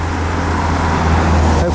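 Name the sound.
cars passing on a road near a viaduct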